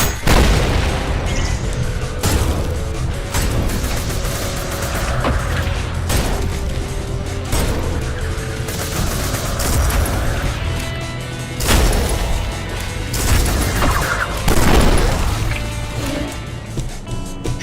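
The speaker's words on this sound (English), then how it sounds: "Shotgun." Shotgun blasts in ULTRAKILL, a series of loud, sharp booming shots at irregular intervals over dense, busy game noise, with no music.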